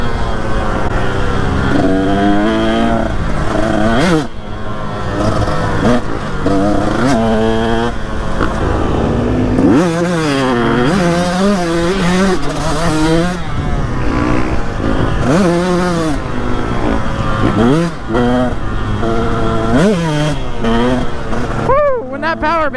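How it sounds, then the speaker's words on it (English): A KTM two-stroke dirt bike revs hard on a woodland trail, its engine climbing and falling in repeated throttle bursts close by, with a rider's voice mixed in. "When that power band kicks in, you better be ready on the KTM 2-stroke."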